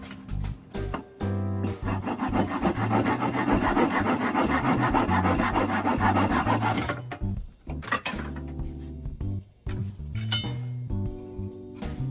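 A handsaw rasps back and forth through a bamboo tube being cut for a quena flute, a steady scraping stroke that runs continuously for several seconds before breaking into shorter strokes and wooden knocks.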